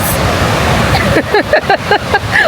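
Ocean surf at a sunny beach washes in as a steady, loud hiss, with people talking over the waves in the second half.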